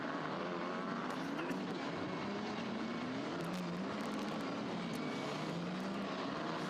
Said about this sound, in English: See the cars just weaving, trying to get as much heat as possible into their Hankook